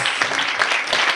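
A school meeting audience applauds both teams, a brief, loud burst of dense clapping with no voices.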